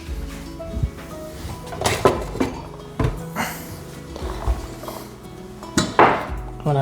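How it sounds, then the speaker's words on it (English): Long pepper being crushed, with a series of sharp knocks and clinks from pounding or grinding, irregular hits spaced about a second apart, close and fairly loud, with no speech. "And I got some long pepper, which we are gonna crush."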